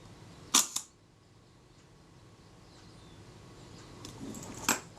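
A Kodak Retina Reflex type 025 camera with a faulty shutter release fires its shutter: a sharp close click and clatter early on, then a second click several seconds later, each standing alone in a quiet room.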